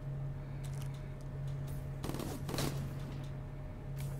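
Gunfire in Call of Duty Black Ops: scattered distant shots, then a sharper cluster of bursts in the middle, all faint over a steady low hum, with no talk.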